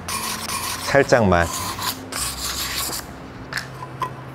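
A dry, rasping scrape of sandpaper rubbing a bisque-fired ceramic dish in short strokes, close up, with a brief soft voice partway through.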